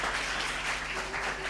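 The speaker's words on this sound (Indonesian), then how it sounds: "Tepuk tangan dong buat Marawis." An audience at a televised youth school showcase claps for a Marawis percussion group in a brief, moderate burst of applause.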